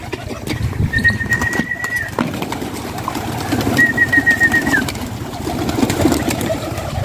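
Pigeons, mostly brown with a couple of colored ones, at a pigeon sale, heard with soft cooing and fluttering movement under busy outdoor background noise, with two short chirping calls standing out.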